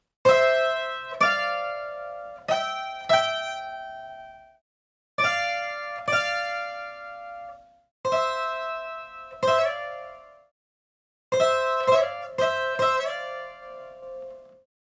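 A requinto guitar plays a riff slowly and alone, in four short phrases of plucked, ringing notes separated by brief pauses.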